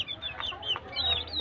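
Four small chicks in a backyard poultry setup give soft, high clucking and cheeping calls close by, a few short chirps over a faint low background hum.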